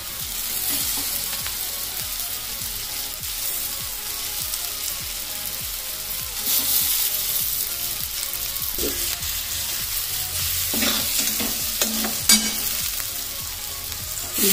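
Boiled chickpeas fry and sizzle steadily in a hot pan for a chana chaat masala, with occasional stirring scrapes, close and continuous, no talking.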